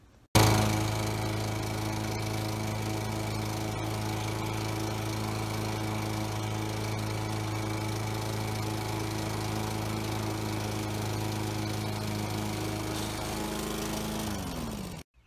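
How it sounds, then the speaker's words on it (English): Lawn mower running while mowing a yard, a loud, steady engine drone that starts abruptly and holds constant for the whole stretch before winding down at the end, with no talking. "time for me now to go ahead and do a little mowing"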